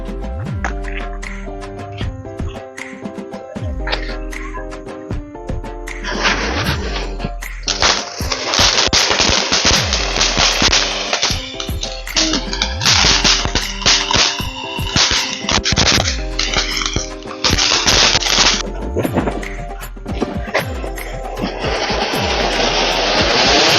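Diwali firecrackers bursting outdoors in long rapid chains of sharp cracks, loud and close, some strings rattling off like machine-gun fire, building to a dense continuous crackle with no talk.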